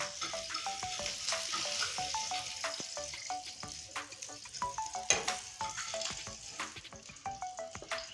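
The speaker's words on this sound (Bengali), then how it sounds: "এখন দেখুন মাছটা আমি অল্প করে ভেজে নিয়েছি" Fish lightly frying in hot oil for pakoras, a steady close crackle and sizzle with occasional utensil stirring, no voices over it.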